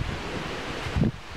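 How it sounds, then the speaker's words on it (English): Wind blows outdoors on a gray, stormy day, making a steady, low rushing roar against the microphone. It swells in one brief gust, and no one speaks. "The wind's blowing."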